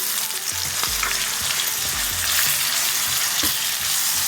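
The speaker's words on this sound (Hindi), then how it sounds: "अब इसमें हम लोग 2-3 मिनट इसको सिर्फ आपस में फ्राई करेंगे।" Steady sizzling of garlic and ginger frying in hot oil, with occasional scrapes and stirring knocks from a utensil in the pan.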